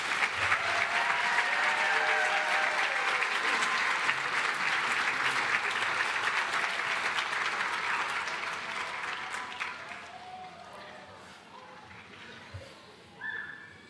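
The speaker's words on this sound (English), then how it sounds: "Now let's have one more round of applause for our new graduates." Audience applause for new graduates at a Space Camp robotics graduation ceremony, dense and loud for several seconds, then tapering off to scattered claps and near quiet.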